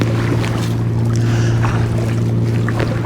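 Kayak moving steadily on open water on a paddle out toward a lighthouse, with a continuous low hull drone and soft water swishes and trickles throughout, fairly loud and close, with no voices.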